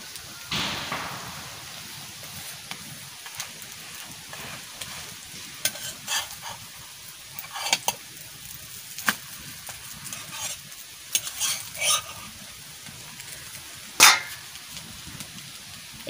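A roti frying in oil for chicken Mughlai, a soft continuous sizzle broken by scattered sharp clicks and scrapes of utensils, one louder knock near the end.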